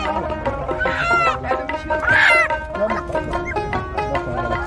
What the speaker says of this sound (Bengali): এই যে দেশি মুরগি